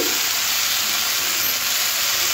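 Turmeric, chili powder and salt spices frying in a pan with a splash of water for a cabbage and peas dish, giving a steady, loud, close sizzling hiss that runs unbroken throughout.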